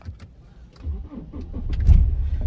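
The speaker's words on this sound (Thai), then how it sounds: "ทดสอบสตาร์ทนะครับ รุ่นนี้เป็นสมาร์ทคีย์นะครับ กดปุ่มสตาร์ทได้เลยนะครับอย่าเบรกนะครับ กดปุ่มสตาร์ทครับ" A BMW E60/E90 engine is started with the smart-key start button: a low cranking rumble builds into a loud, steady idle in the second half, close by with no talk.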